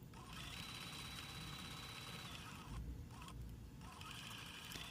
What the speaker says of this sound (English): I'm just going to stitch right around this applique shape with a straight stitch